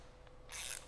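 A 9/16 ratchet tightening a lock nut on a TapeTech 502H loading pump, giving one short burst of close, bright clicking that lasts about a third of a second.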